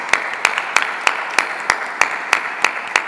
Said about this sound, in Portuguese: Vamos aplaudir a palavra de Deus com muita alegria, com muita força.